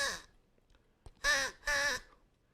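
A handheld reed crow call, tuned deeper or higher by reed size, imitates a crow with two loud, close, drawn-out caws after a brief clipped burst, then quiet.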